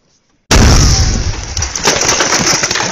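Enemy tank shell exploding near a Ukrainian Armed Forces checkpoint in wartime: sudden loud close blast after a moment of quiet, followed by a rumbling roar and debris crackle that slowly fades.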